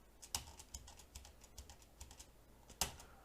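Keys clacking on a computer keyboard while a Node.js project is set up, a steady run of close, crisp taps with two sharper, louder presses standing out.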